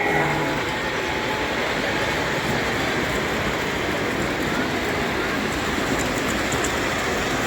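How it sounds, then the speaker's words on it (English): O gauge model trains, including a Conrail train, run continuously along the track at a model train show with a steady rolling rumble and clatter, amid the constant background noise of a busy hall. "Displaying to the public, running some trains so far."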